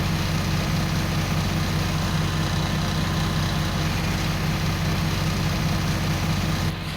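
A farm tractor idles steadily nearby, a constant low rumbling drone that holds unchanged for several seconds with no voices.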